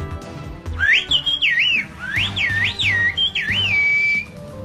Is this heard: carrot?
no